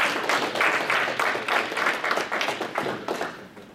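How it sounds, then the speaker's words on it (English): An audience at an alumni networking meet claps for a speaker who founded McAfee, with fairly loud, close applause showing distinct individual claps in a slightly uneven rhythm that gradually thins out. "Yeah, please give a big applause to Srivats again."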